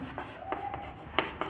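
A pen or chalk writing on a surface during a chemistry lesson, with short scratchy strokes and a few sharper taps, close and moderately quiet over a steady background hiss.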